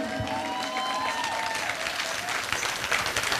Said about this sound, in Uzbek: prodyuserimiz Sirojiddin aka Tahirovga chiroyli qarsaklar bo'lsin.